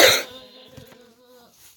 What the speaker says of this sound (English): I say that was a big cough.